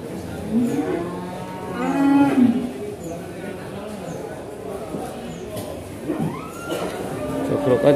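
Cattle moo repeatedly at a busy Kudus livestock market trading young feeder bulls, including Simmental-type and Limousin cattle; several loud, drawn-out lowing calls from nearby animals rise over a constant crowd murmur and background chatter.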